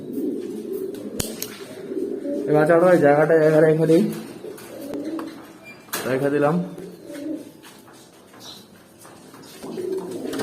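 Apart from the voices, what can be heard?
pigeons cooing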